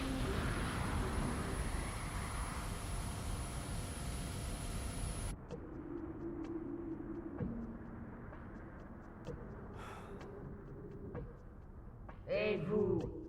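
Animated space fighters launch from starboard ramps in a sustained rushing engine roar that cuts off abruptly, leaving quieter mechanical rumbles, clicks and a short whooshing sweep, with voices speaking over it.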